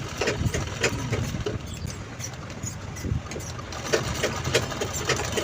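A sewing machine runs a lock stitch over a seam on a small fabric mobile pouch, a steady, moderately loud mechanical whir with faint ticking clicks throughout.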